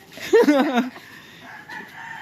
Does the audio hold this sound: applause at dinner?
no